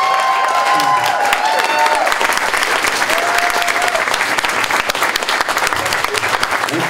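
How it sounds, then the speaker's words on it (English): An audience at a horror-festival panel claps and cheers, a full burst of applause with scattered whoops that stays strong throughout. "how about a real round of applause for these guys?"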